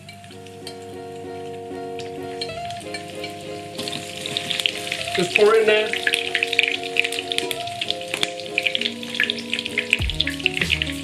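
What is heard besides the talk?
falafels frying in oil in a pan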